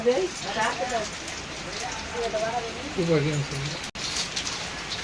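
Rain patters steadily in the background while people talk over it, their voices fairly close and louder than the rainfall.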